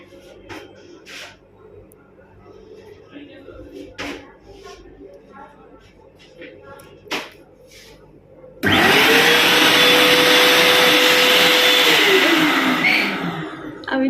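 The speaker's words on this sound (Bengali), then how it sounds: "এটা হচ্ছে ড্রায়ার মানে হ্যান্ড ওয়াশ করে নিয়ে তোমরা এখানে হাত শুকিয়ে নিতে পারবে সাংঘাতিক আওয়াজ হয়" An electric hand dryer in the washroom of a Vande Bharat train starts abruptly and blows hot air with a loud, steady roaring whoosh that holds for several seconds before winding down, following quieter background noise and talk.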